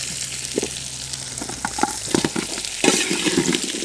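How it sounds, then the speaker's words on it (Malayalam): Duck chilli for a duck Manchurian is stirred as it fries in a pan, a steady sizzle broken by scraping and tapping of the spoon that builds louder toward the end. "ഇനി നന്നായി ഒന്ന് ഇളക്കിയെടുക്കാം"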